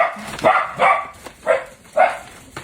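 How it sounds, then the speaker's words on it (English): A small dog yaps sharply, giving about five quick, loud barks in an uneven rhythm, close by and with no other sound. "Disregard the yapping dog."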